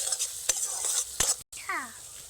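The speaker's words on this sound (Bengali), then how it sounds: "দু মিনিটের জন্য মশলাটা নেড়ে নেবো" Spice masala with cumin powder and sugar being stirred in a pan, with brisk scraping strokes over a frying sizzle, close and clear, broken by a brief pause and a faint tonal squeak.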